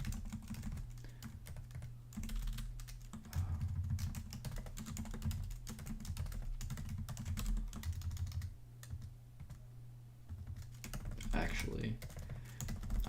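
Fast, steady clatter of keys on a computer keyboard during math homework, the clicks running almost continuously over a low background hum, close and fairly quiet.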